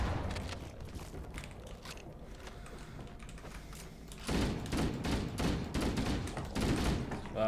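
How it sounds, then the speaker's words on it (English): Shotgun fire in the video game Halo: Combat Evolved, a rapid string of loud repeated blasts breaking out midway after a quieter stretch of game noise, fairly close and dense. "Shotgun."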